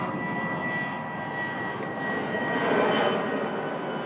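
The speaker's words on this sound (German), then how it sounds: "Weil hier wirklich im Minutentakt ja wirklich ein Flieger nach dem anderen rübergeht." An airplane passes overhead near an airport beside a sports venue, a steady loud jet-engine roar with a faint high whine that swells slightly toward the end, with no talk.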